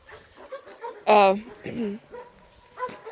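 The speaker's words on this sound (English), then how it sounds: "Here we go with the dog." A dog lets out one loud, close bark, followed by a shorter whimpering yip, with a person talking around the sounds outdoors.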